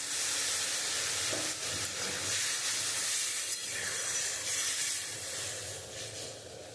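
Water hitting a hot cooking pan while making a sour fish curry with mango, a loud steady hiss and sizzle of steam that slowly fades slightly, close and without talk.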